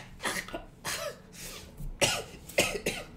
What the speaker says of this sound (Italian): Peraltro la tosse per davvero non mi fa bene fare questa cosa.